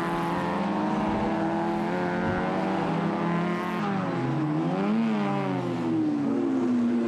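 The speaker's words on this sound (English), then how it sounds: "Cars coming out now for practice session number 6 for race 6, a 12 lap scratch race, and a total of some 23 cars coming out for this practice session" A pack of 1997 BRSCC Fiat racing cars pulling out for a practice session at Mallory Park, several engines revving and rising in pitch together, loud and sustained, with one climbing sharply as it accelerates past.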